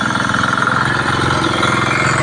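Farm machine harrowing a deep, muddy rice field with the farmer riding on it; a steady, close, loud engine drone with a chugging low rhythm runs throughout without pause.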